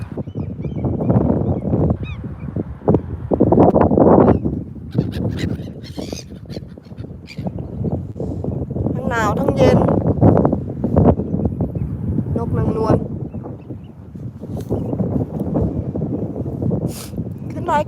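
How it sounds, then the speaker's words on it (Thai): Strong cold wind buffets the microphone in gusty rumbling bursts outdoors near water with ducks, with occasional honking bird calls and someone talking over it. "อากาศก็ประมาณนี้นะคะทุกคนลมแรงมาก เย็นมาก"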